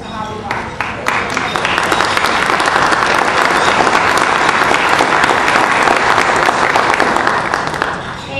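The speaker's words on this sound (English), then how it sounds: "Big round of applause" Sustained audience applause at an ethics award ceremony, a dense wash of many hands clapping that rises quickly and holds strong and close for several seconds.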